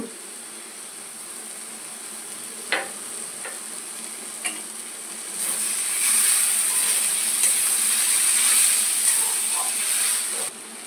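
Eggplant with poppy seed and mustard paste goes into a hot pan for a thankuni leaf chorchori. A quiet hiss swells into a louder, steady sizzle midway, with a few sharp knocks of utensils.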